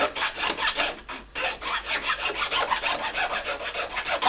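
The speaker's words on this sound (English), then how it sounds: "that last little bit to make it perfectly round, well, that's what sandpaper's for" Sandpaper rubbing back and forth on a hand-carved bone fish hook to round it, a close, steady rhythmic rasping scrape of about two strokes per second with one brief pause.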